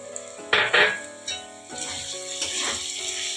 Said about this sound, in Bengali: এভাবে একটু নেড়ে নেব মশলাটা একটু নেড়ে নিয়েছি